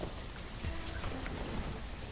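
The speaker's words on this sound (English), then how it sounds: "Look, it's raining again." Steady rain falls in the village-building game Banished, a continuous soft hiss of drops on the ground with no voices, sustained evenly from start to finish.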